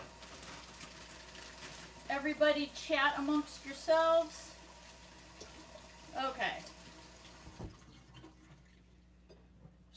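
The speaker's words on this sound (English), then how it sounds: "I'm going to rinse the chicken real quick" Tap water runs steadily into a kitchen sink while raw chicken is rinsed, a continuous hiss under a person talking nearby that cuts off toward the end.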